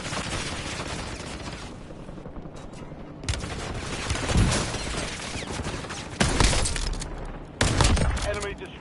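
Video game gunfire in Call of Duty: Warzone, with bursts of rapid automatic shots and heavier blasts coming in waves, loud and close, mixed with game sound effects.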